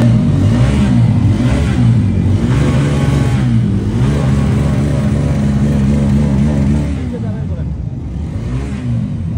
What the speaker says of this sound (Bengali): যথেষ্ট বড় এক্সজস্ট ফ্লো আছে, যার কারণে এটার সাউন্ডটা কিন্তু রেগুলার পালসারের মতো না